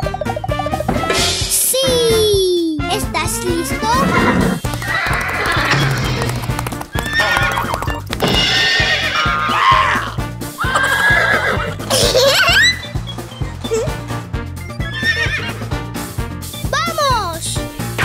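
Horse neighs and whinnies ring out over steady clip-clopping hooves, loud and close throughout, with children playing around a toy horse and chattering between the calls.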